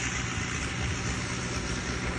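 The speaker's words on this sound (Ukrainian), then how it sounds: "і ось трактор. Трактор вже дискує." Tractor disking a harvested sunflower field in Kherson region, its engine a steady unbroken drone that fills the whole moment at even loudness.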